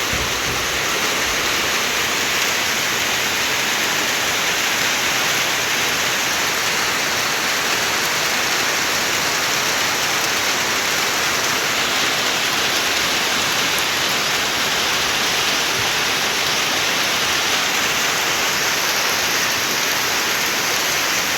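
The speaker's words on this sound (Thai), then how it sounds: "ฝนตกแล้วนี่" Rain falls on open farm fields and rice paddies, a loud, dense, unbroken hiss that holds steady for over twenty seconds with no voices.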